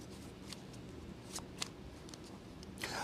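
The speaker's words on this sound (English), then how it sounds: "Shuffle." A deck of playing cards is shuffled up close in short riffling bursts and flicks at uneven intervals over a quiet room background, with no talking.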